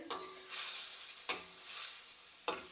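Brinjal kaliya curry with coconut milk is stirred in a pan, with soft bubbling and sizzling between three sharp scrapes of a utensil against the pan, close and fairly quiet.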